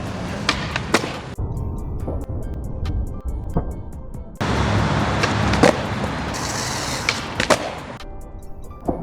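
A skateboard does tricks on flat ground outdoors in winter, with rolling wheel rumble broken by sharp board snaps, clacks and landings, close and irregular.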